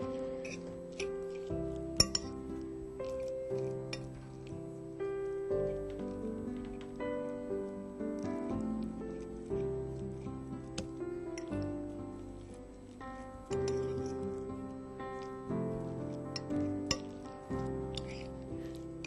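A spoon clinks repeatedly against a glass bowl while a mixture seasoned with black salt is stirred, a steady run of light taps and scrapes over soft background music.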